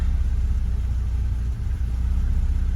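A carbureted engine converted to EFI idles steadily and close by, a dense low rumble with a faint uneven pulse and no talking over it.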